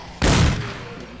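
A single sharp gunshot in the survival video game Romero's Aftermath, a sudden loud, close blast that decays into a brief ringing tail within about half a second.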